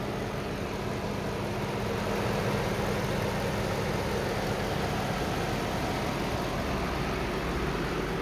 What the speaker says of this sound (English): V8 engine, vehicle idles fine, no unnecessary noises coming from the engine bay.